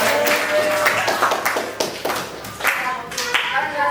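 A class of students claps together in a classroom, a close, loud burst of uneven hand claps and taps with some chatter mixed in, rising and falling over a few seconds.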